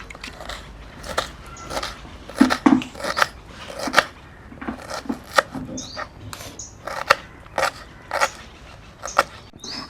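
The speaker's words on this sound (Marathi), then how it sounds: "सुरुवातीला आपण कांदे बारीक कापून घेऊया" Knife finely chopping onions on a cutting board for samosa prep, a steady run of close, crisp cuts and crunchy taps with slight irregular rhythm, no talk.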